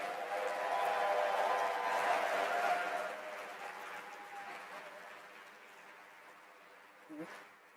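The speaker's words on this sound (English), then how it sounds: "How about one more grand round of applause for all of today's award winners?" Graduation-style audience at a medical university Match Day event gives a round of applause for award winners, dense clapping that holds strong for a few seconds and then thins and fades out, with a brief thump near the end.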